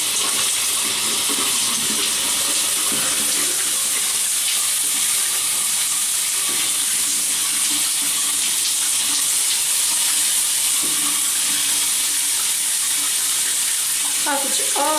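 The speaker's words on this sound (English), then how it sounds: "We're in the shower." Shower water pours steadily in a constant loud hiss close by, with faint voice-like sounds murmuring underneath throughout.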